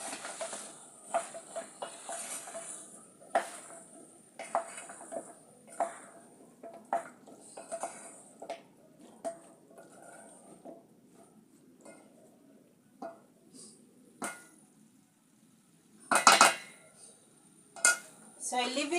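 Bottle gourd and capsicum stirred in a pot for a broccoli stew, with a spoon scraping and clinking against the metal in irregular light knocks, a few sharper clanks near the end, under occasional faint talk.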